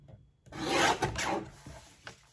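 Sublimation paper being trimmed for a travel coffee mug, a soft scraping rasp swelling and fading in two close strokes, then a faint short rub at the end.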